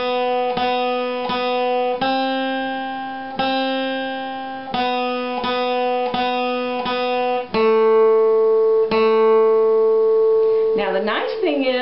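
Flatpicked acoustic guitar plays the opening phrases of the bluegrass tune Bile Them Cabbage Down, a string of clear single picked notes and short sustained tones in a steady rhythm, close and alone.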